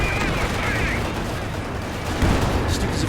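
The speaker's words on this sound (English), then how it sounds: "Oh, we've got rocket strafe in action." Rocket barrage explosions in a WWII strategy game match featuring T-34 and Panther tanks, a dense continuous rumble of blasts and gunfire with a burst near the end, heard under game noise.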